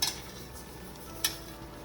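A spoon stirs rice into boiling jambalaya in a pot, two sharp scraping clinks over a steady bubbling simmer, close and with no voices.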